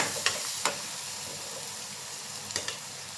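Spice masala with coriander powder sautéing in hot oil in a pan for a bitter gourd dish gives a steady, close sizzle, with a few sharp spoon clicks and scrapes against the pan.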